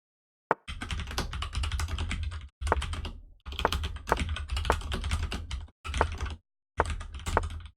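Close-miked typing on a computer keyboard: rapid clicking keystrokes come in several dense bursts of a second or two, separated by short silent pauses.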